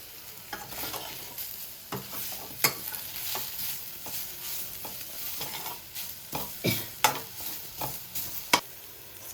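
Moringa leaves frying in a non-stick pan, with a steady soft sizzle under repeated scraping and stirring strokes and occasional sharper clacks of the spatula, close and without speech.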